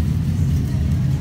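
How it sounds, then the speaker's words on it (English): A car engine rumbles steadily up close, a deep continuous drone with no clear rise in pitch from a rev. "Hey, rev that shit, man."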